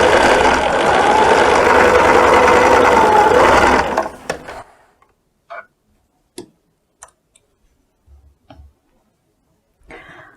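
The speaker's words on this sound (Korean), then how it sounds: "오바로크 천원선을 넣고 다림질한 부분을 뺑 들어가면서 박아줍니다." Sewing machine stitching a pressed jacket facing with overlock thread, a steady loud whir for about four seconds, then stopping into near silence broken by a few brief clicks and handling noises.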